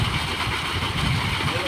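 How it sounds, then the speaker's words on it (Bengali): A 5 hp three-phase water pump motor running after switch-on, giving a loud, steady, close broadband hum and whir with no change over the short stretch. "আপনারা দেখতেছেন মোটরটি চালু করা হলো, এই যে দেখতেছেন মোটর চালু হয়ে গেছে।"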